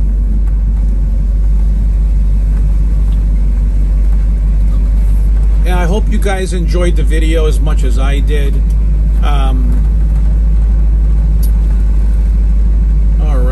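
A 1967 Chevrolet Camaro rumbles with a deep, steady engine note as it is driven and parked, while someone talks over it.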